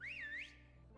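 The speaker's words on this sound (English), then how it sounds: "Wait, don't whistle." A single bright whistled note in the video game Genshin Impact that sweeps up and down over about half a second, then stops, over a low steady background hum.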